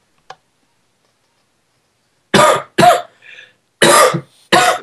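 Several short, sharp coughs burst out in two close pairs, loud and near, with a faint click just before and a brief murmur between them, during a Hypixel Minecraft minigame session.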